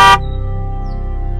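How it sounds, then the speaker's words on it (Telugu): A car horn blares loudly in one short, sharp blast that cuts off abruptly, followed by a low steady hum. "వస్తున్నా కదా, ఓ హారన్ కొడితే ఎలా?"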